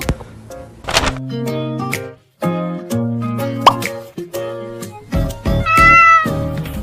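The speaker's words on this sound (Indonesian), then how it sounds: "tampaknya si kucing juga ingin bagiannya Daniel" A cat meows several times, short and fairly close, with soft plopping and clinking sounds between the cries and a longer meow near the end.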